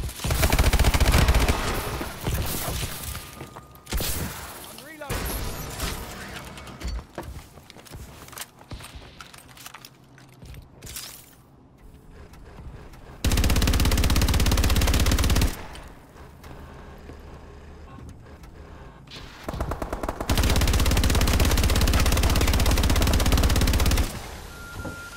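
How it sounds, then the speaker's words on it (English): Rapid automatic gunfire from the video game Call of Duty Advanced Warfare, loud sustained bursts of a fast-firing gun, two long sprays separated by quieter stretches of game sound and softer shots. "that gun shoots fast as hell"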